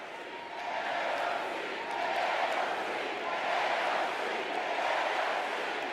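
A large crowd at the Democratic National Convention cheers and shouts in a sustained, distant roar that swells after a brief quieter moment at the start.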